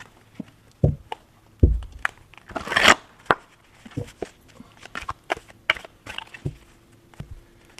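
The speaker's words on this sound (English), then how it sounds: "I'm going to shuffle these and then just draw from the top." Tarot cards being shuffled by hand, giving a series of sharp papery snaps and soft riffling crinkles at an irregular rhythm, close up, with brief quiet gaps between bursts.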